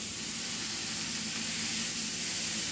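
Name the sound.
leftover ground hamburger meat sizzling as it cooks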